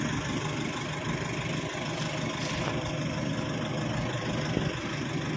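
Ingco portable air compressor running while inflating a motorcycle tire, a steady buzzing motor drone, close and continuous with no pauses.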